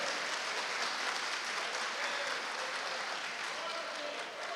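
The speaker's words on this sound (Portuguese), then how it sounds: "aplaudam o Senhor, glórias a Ele" A church congregation claps steadily, a dense wash of applause that holds at an even level throughout, with no voices rising above it.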